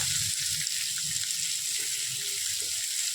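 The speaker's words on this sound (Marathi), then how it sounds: "कांदे आपल्याला फ्राय करून घ्यायचे. फ्राय म्हणजे ब्राऊन न करता" Onions fry gently in oil in a pan for a mutton dish, giving a soft, steady sizzle. It is fairly quiet, with faint low clatter underneath and no speech.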